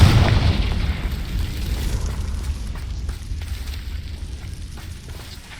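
A Confringo fire-blast spell in Hogwarts Legacy detonates as one loud, deep explosive boom. A rumbling, crackling tail fades away over several seconds.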